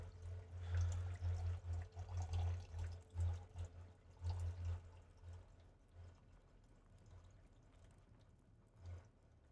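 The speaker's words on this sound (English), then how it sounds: "I fill up my water." Water is refilled in the survival game Dune: Awakening, a soft pouring, running trickle that swells in pulses over the first few seconds and then fades to a quiet wash.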